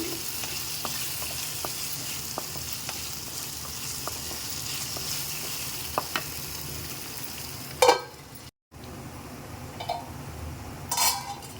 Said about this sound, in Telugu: లో ఫ్లేమ్లో పెట్టుకుని కలుపుకోవాలండి ఫైనల్ ఇటు పెట్టి మధ్య మధ్యలో కలుపుకుంటూ ఉండండి